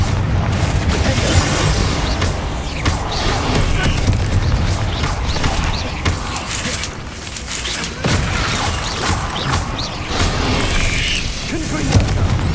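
Bombarda and Confringo curses burst in Hogwarts Legacy combat as a continuous barrage of loud, booming blasts and crashes, mixed with shouted voices throughout.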